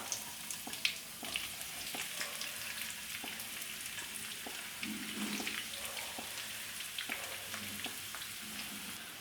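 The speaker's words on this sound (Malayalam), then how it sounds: "ഇനി സവോള ഒന്ന് വഴന്നു വരട്ടെ" Four thinly sliced onions, salted, sauté in a pan for chicken majboos, giving a soft, steady sizzle at low volume with occasional light clicks of stirring and no talking.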